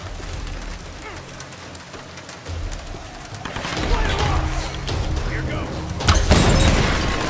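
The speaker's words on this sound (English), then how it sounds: "That is one hell of an explosion." A large explosion in the Tomb Raider video game, a heavy rumbling blast that swells and crackles with debris, peaking near the end, with someone talking over it.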